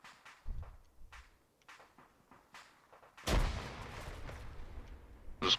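A grenade detonates in the military shooter Arma III, a sudden loud burst that follows quieter footsteps and shuffling, leaving a rumbling, noisy tail.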